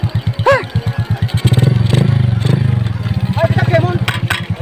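A motorcycle engine idles close by with a rapid, throbbing beat and a brief rev, while people talk over it.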